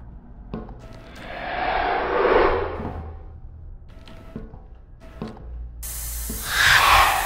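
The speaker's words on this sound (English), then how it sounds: "Spray paint in the face." Spray paint hissing in a horror survival video game, two or three sustained airy bursts of several seconds each, fairly loud against a low background rumble.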